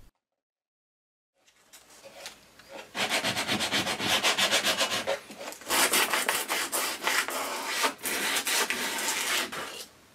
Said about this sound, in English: I then finish off by working up through grades of sandpaper.